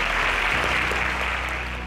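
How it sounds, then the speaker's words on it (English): Steady applause from a quiz show audience for contestants who answered correctly, a continuous even wash of clapping at moderate loudness that ends in a brief louder burst. "A round of applause to them."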